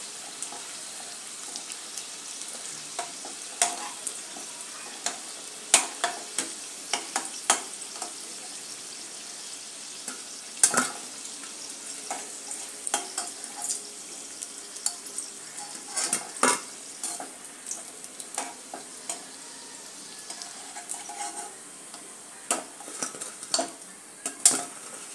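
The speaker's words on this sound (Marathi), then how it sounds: "आता याला तळून देऊयात।" Breakfast snacks frying in a pan of oil, with a steady soft sizzle and scattered clinks and stirring scrapes from utensils on the pan, close and fairly constant, no talk.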